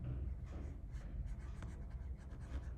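The rupee symbol is written by hand, producing soft, close scratching strokes in short, uneven bursts against a quiet background.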